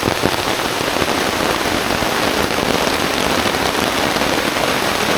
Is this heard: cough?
no